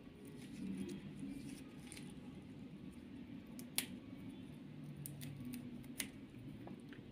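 Scissors snip small leaves off a bamboo plant: two or three quiet, sharp clicks stand out against a steady low room hum, with faint rustling between the cuts.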